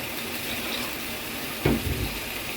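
Broth pours into a pan of sautéed spice masala for a fish curry: a brief, close splash and gurgle of liquid that lands midway and cuts through a steady low background hiss.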